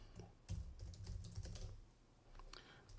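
Typing on a computer keyboard while logging in to an n8n automation server on a Raspberry Pi 5, a quick irregular patter of close key clicks with brief pauses, faint and without speech.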